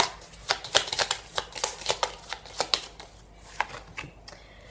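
A deck of tarot cards is shuffled up close, a quick run of crisp riffling flicks and slaps in an uneven rhythm, fading to a few softer shuffles at the end, with no talking.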